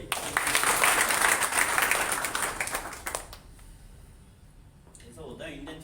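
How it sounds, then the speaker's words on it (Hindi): An audience at a motivational business meeting applauds loudly for about three seconds, then the clapping fades away and a voice speaks briefly near the end. "जोरदार ताली बजाइए।"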